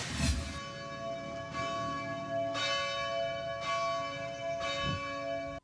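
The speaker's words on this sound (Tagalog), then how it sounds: "Subling nadungog ang bagting sa kampana sa mga parokyano sa lungsod sa Dalaget." Church bells of Dalaguete Church ring out in slow, resonant strikes, each toll hanging and overlapping the next, with no voices present.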